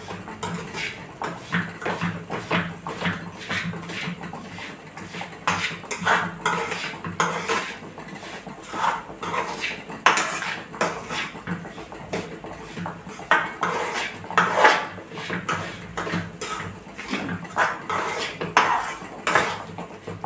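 A spoon scrapes and clatters repeatedly against a metal kadhai while rava ladoo mixture with milk powder is stirred off the heat, a busy, close, irregular clinking and scraping that continues throughout with no talking.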